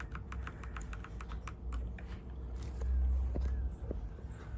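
Rapid, steady keystrokes on an Evofox Ronin TKL wired mechanical gaming keyboard, close and clicky, with a low background hum beneath the typing.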